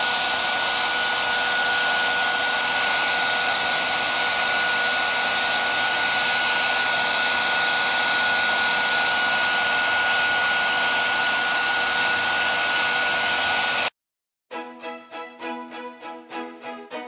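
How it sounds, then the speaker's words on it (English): A heat gun blows a steady, loud whooshing roar with a faint whine while heating paint on a hand rail, running continuously before cutting off abruptly near the end into a different, pulsing sound. "So I'm gonna heat this area up right here with a heat gun."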